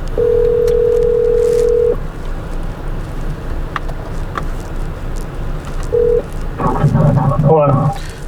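A telephone line gives a steady dial tone for about two seconds, followed by a brief dialing tone and then ringing or line sounds, loud and close, with a voice starting near the end.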